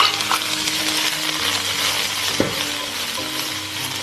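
Onion and green pepper stir-fried in leftover oil in a wok over medium-low heat, a dense steady sizzle with one sharp metallic clink midway.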